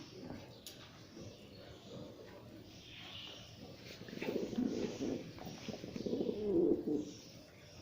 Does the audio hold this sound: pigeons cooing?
yes